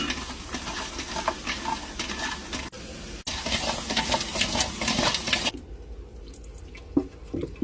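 Pigeon pieces cooking in a pot over high heat for kabsa, giving a steady sizzling and stirring texture that runs loudly for several seconds, then drops to a quieter simmer near the end.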